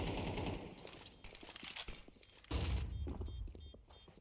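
Pistol fire in a Counter-Strike match, with repeated sharp gunshots and quick bursts, punchy thuds and rattling game effects packed closely together at moderate loudness.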